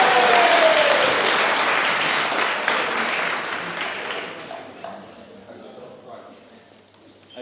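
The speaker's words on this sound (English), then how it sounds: "Big round of applause for Reuben" Wedding guests clap during the reception speeches, a loud burst of applause that gradually thins and fades over several seconds, ending near quiet.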